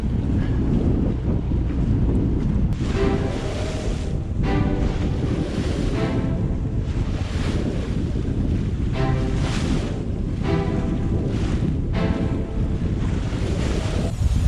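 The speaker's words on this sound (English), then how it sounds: "It is wavy and she's really pounding through and getting slowed down by the waves" Continuous rushing of waves slapping against a sailing boat's hull, with heavy wind buffeting the microphone and periodic surges as the boat pounds through swells under a 20-horsepower engine.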